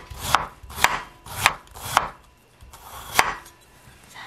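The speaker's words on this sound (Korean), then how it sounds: "저는 좀 얇게 썰어주겠습니다." A knife thinly slicing Korean radish on a cutting board, with five crisp, evenly spaced chops followed by a pause and one more chop, close and clear with no talking.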